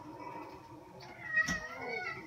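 A house cat meows in protest while being picked up indoors, with one loud, close cry in the middle and softer vocal sounds around it.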